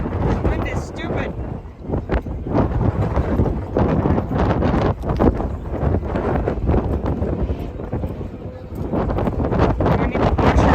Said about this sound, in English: Wind is stupid.